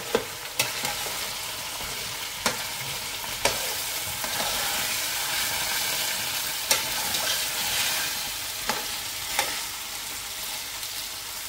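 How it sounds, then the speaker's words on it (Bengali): Red and green capsicum sizzles steadily as it fries in hot oil, a constant crackling hiss punctuated by occasional sharp clinks and scrapes of a stirring spoon against the pan. "এগুলো একটু এই অয়েলের মধ্যে একটু ফ্রাই করে নেব"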